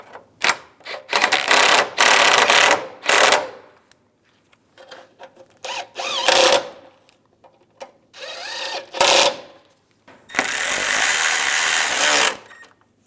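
Power tool tightening bolts on a 1999-2005 Volkswagen Jetta A/C condenser, a series of loud bursts of whirring, some short and one longer near the end, separated by quiet gaps, close by without talk.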